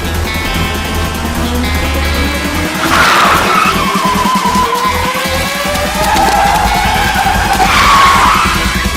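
A car pulls away hard, its engine roaring as the tyres skid and squeal loudly in two long sweeping bursts, one early and one near the end.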